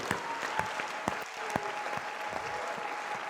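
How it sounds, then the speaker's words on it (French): A church congregation applauds in a steady, dense patter of many hands, with a few louder claps standing out at a regular beat, heard from within the crowd. "Applaudis très bien le Seigneur des Seigneurs."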